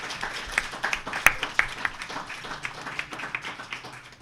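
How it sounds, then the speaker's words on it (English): A small in-person audience at a policy event gives a round of applause, thin and fairly quiet with a few distinct, sharper claps standing out over softer patter. "Let's give those folks another round of applause."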